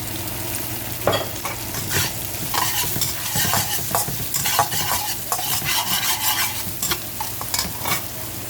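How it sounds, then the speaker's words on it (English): Garlic and green onions toasting in oil in a pan, with a steady close sizzle under frequent scraping and clinking stirring strokes, busy and continuous without any voices. "put a little garlic in there. Toast that. Some green onions."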